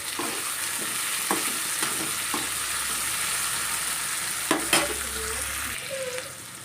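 Onion, tomato and green chilli fry in a pan with a steady, close hiss that runs under a few scattered spoon scrapes and taps, with no voices.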